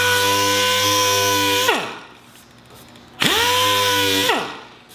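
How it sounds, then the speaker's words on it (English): A dual-action sander levels the clear coat on a car's paint. The motor runs at a steady whine, winds down to a pause, then spins back up loudly, close by. "we want to get our DA and just go over all of this, get it nice and flat so we don't feel any imperfections"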